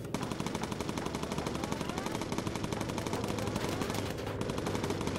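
Continuous machine gun fire from a Lancaster bomber in the game Bomber Crew: a dense, unbroken rattle of rapid shots, loud and steady throughout with only a brief dip near the end.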